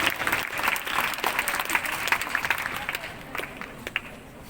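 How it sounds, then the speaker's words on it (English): An audience at a school prize distribution claps for a first-prize winner, a dense burst of applause that gradually thins and fades toward the end. "A big round of applause for Shruti Santoshi Sao"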